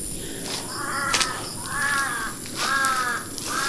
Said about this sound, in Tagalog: Yan, may uwak.